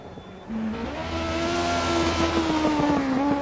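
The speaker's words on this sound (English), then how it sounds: "They're really making use of the high revving situation right here." A rally car in a racing video game revs hard through a big left-hand corner, its engine pitch climbing and holding high in a loud, continuous whine, with no voices over it.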